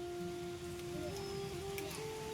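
Rain falling during a dark, overcast evening with lightning, a steady faint hiss that continues without a break and has a low tonal hum beneath it.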